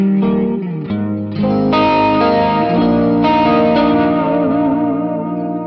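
Electric guitar through a Quad Cortex with two delay effects running in parallel, sustained chords ringing into thick, smeared repeats and echoey wash, played alone and continuously.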